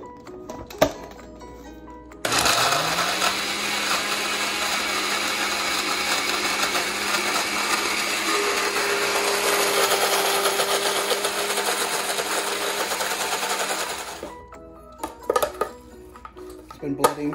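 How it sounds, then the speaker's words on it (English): A blender whirs steadily for about twelve seconds, processing pistachio basil pesto in a kitchen; the motor starts abruptly, holds a loud sustained drone, then cuts off, followed by a few light clinks. "Been blending for about 10 seconds."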